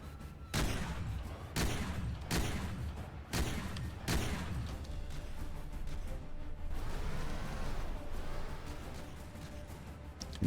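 Tank cannons in the combat game From the Depths fire five sharp, booming shots at uneven intervals over a low rumble. Scattered crackling follows as the firing settles, and no one talks.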